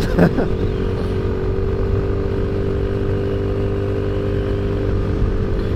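An Ice Bear Maddog twist-and-go scooter with a carburetor engine drones steadily while riding, a close, even motor hum with a brief clatter at the start and no speech.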